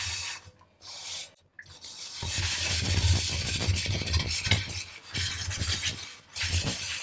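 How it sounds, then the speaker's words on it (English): Stainless steel cookware being scrubbed with Bar Keepers Friend powder, a steady wet rubbing rasp with brief pauses, close and fairly loud with no talk. "I'm just gonna scrub it right away because it's already wet"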